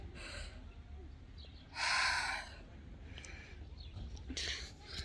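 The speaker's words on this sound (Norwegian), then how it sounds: "Må bare ta en puste." A person takes a deep breath, a single sharp, loud inhale near the mic, surrounded by quieter breathy sounds and faint background noise.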